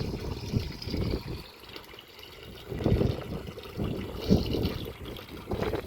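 Anti-termite chemical solution poured out during home construction, splashing and trickling in uneven bursts, close and fairly loud.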